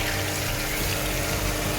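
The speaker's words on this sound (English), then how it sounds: "I'll add in some water" Water poured into a pan of marinated chicken frying with star anise for chicken sukka, giving a steady, loud rushing hiss and bubbling sizzle that holds through without a break.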